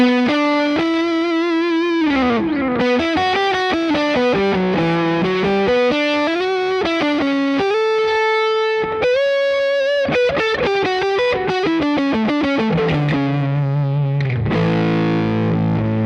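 Electric guitar through a humbucker pickup with distortion plays a continuous, loud run of sustained notes and quick melodic phrases, with no talking.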